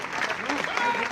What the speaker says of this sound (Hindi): इसी के साथ तालियां बजाते रहें, तालियों में कोई कमी नहीं रहनी चाहिए।